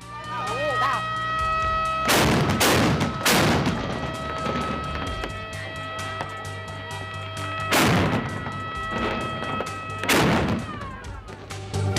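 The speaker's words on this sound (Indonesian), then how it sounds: "meriam-meriam diatur berjajar, dan setiap kelompok peserta berlomba menghasilkan dentuman paling keras dan menggelegar" Several loud, deep booms of cannons going off at a festival in Japan, spaced seconds apart, over a continuous backdrop of music and narration.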